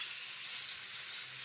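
Onion and bell pepper fry lightly in a pan, a steady bright sizzling hiss that holds even and fairly soft throughout, with no voices.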